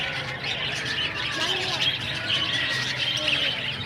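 Flock of many birds calling at a nesting area in coconut trees, a continuous chorus of chirps and squawks with a voice talking over it.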